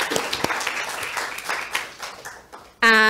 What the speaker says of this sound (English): a big round of applause to Bell Shakespeare